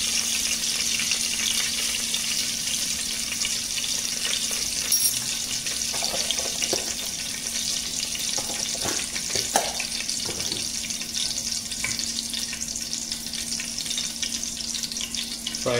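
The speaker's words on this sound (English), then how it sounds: "Fry this onions." Sliced onions fry in oil with cinnamon, clove, cardamom, pepper and ajwain, giving a continuous soft sizzle with a low steady hum, punctuated by a few faint stirring scrapes.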